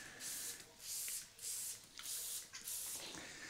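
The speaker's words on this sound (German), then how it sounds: "Aber ich sprühe mal einfach nochmal mit drauf." Spray sealant misted onto a car paint test panel in a series of short hissing bursts, about five sprays in a loose rhythm, close and fairly quiet with no talk.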